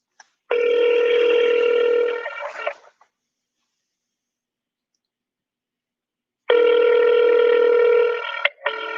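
Ringback tone of an outgoing phone call, two loud, steady buzzing rings about two seconds each, separated by a long silent gap, heard close and alone.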